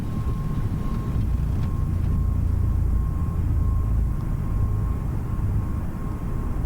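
Steady loud roar of an A320neo airliner's engines during its takeoff roll and rotation in Microsoft Flight Simulator 2020, a constant broadband rumble with a faint high tone, no talk.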